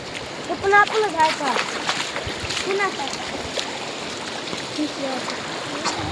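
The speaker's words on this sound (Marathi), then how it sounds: "असं जर पाणी वाहतोय" Floodwater rushing through a flooded farm field makes a continuous broad wash with splashing, while people talk over it and a voice cries out near the start.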